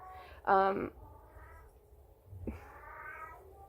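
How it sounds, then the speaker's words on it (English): A cat meows loudly and close by, then a second, longer meow follows after a pause, with faint background noise. "That was my cat."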